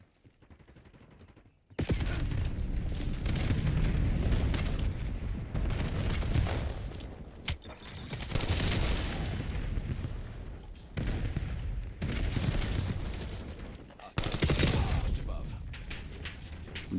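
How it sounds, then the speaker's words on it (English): Rapid automatic fire from the new AR rifle in Call of Duty Black Ops 7, with dense, sustained bursts and booming battle noise layered together, loud and close, after a brief quiet start. "That's the new AR."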